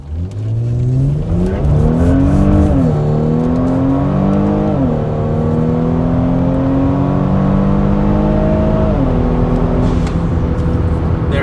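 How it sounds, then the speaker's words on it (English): A Kia Stinger with an MBRP 2.5-inch cat-back dual exhaust under wide open throttle, revving hard and climbing through several gear changes, loud and close, with a deep rasping exhaust note throughout. "I'm going to let the car have it at wide open throttle."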